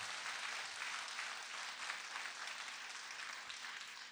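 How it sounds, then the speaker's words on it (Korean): An audience claps in a Buddhist temple dharma hall during a Sunday service, a steady, moderately distant wash of applause with a faint hum beneath. "이분들을 위해서 박수 한번 보내주시면"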